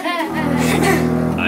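Low bowed string instrument, likely a double bass, sustaining steady low notes with strong harmonics, loud and close, with higher tones sounding over it at the start.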